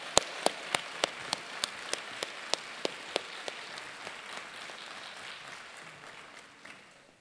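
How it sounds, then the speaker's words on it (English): Applause at a funeral service held at Morgan State University: a crowd claps under one loud, evenly paced nearby clapper whose claps fade out midway, leaving a soft wash of hands. "let's give him a well welcome applause"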